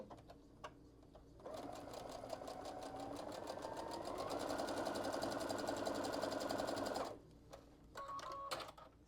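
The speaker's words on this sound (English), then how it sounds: "we are going to sew these 2 pieces together" A sewing machine stitches two fabric scraps together for a quilted sweatshirt, running in one steady whirring burst of about six seconds and then a shorter run, with quiet handling clicks before and between.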